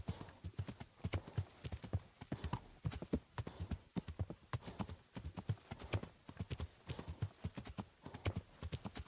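A horse gallops in Kingdom Come: Deliverance, its hooves beating a quick, even clip-clop rhythm of repeated thuds with no break, heard quietly and alone.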